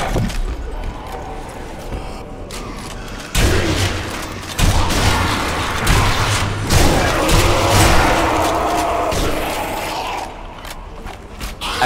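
Gunfire and explosive booms in the zombie shooter Zombie Army Trilogy, loud and continuous with bursts of shots, mechanical clatter and rumbling blasts that swell in the middle and stay dense throughout.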